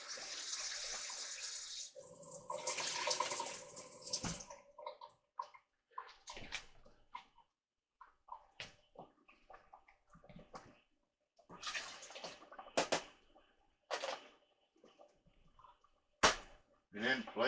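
Filtered water gushes into a pot holding two cups of rice in a steady pour of a few seconds, followed by scattered clinks, splashes and small handling sounds at close range.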